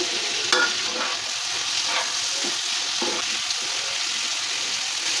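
Mola fish dropped into a pan with water, tomato puree, coriander and cumin powder, followed by steady frying sizzle and a few stirring scrapes. The sizzle is close and continuous, with no one talking.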